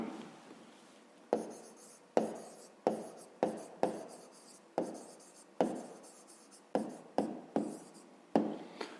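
A maths solution for a fifth-grade triangle perimeter problem being handwritten up close: a series of about a dozen separate scratchy pen strokes, each a short sharp scrape fading away, with brief pauses between and no talking.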